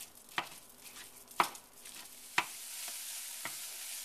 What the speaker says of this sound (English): I'm putting that in a skillet, and I'm going to break it up, and we're going to cook it until it's brown